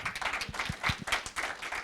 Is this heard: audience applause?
yes